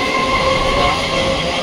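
Inside a moving passenger train, a loud, steady rumble of wheels and carriage fills the space, with faint high squealing tones running through it. No one speaks.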